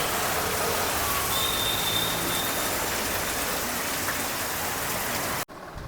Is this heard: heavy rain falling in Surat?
yes